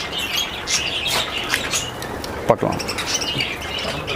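Lovebirds and finches chirp at a Chennai exotic bird farm, with many small, scattered tweets close by. Someone speaks over them, and one sharper call stands out midway.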